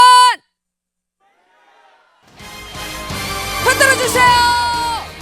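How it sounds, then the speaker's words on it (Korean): After a short voice and a pause of near silence, a large crowd at a Gwangju volunteer gathering bursts into a loud, unison shouted chant with whoops, swelling and then holding strong. "볼런티어 광주를 후창으로 힘차게 외쳐주십시오"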